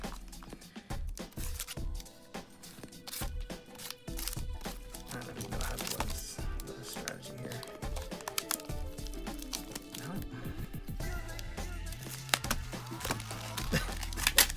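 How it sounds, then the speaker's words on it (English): A mailed package wrapped in many layers of cardboard is torn and pried open up close, giving dense crinkling, scraping, tearing and thumping handling noises that continue throughout. "First thing you gotta open the package"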